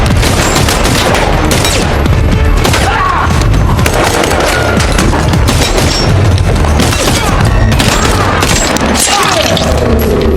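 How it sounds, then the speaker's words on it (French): Gunfire in a brutal shootout and hand-to-hand fight scene from a John Wick film: heavy volleys of shots, booms, crashes and thuds form a loud, dense, continuous wall of sound. "jusqu'à se retrouver face à Kane dans une bataille brutale mêlant des tirs"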